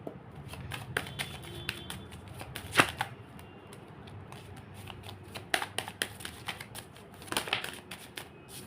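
Tarot cards shuffled and handled by hand, a steady papery riffle and rustle with sharper flicks and slaps of cards throughout, close and fairly quiet, no talking.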